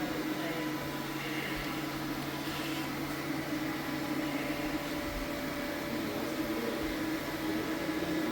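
A UV curing machine hums steadily over a freshly recoated wood floor in a Stone Mountain, Georgia restoration, giving a constant, moderately quiet drone with a faint electrical whine that never changes in level.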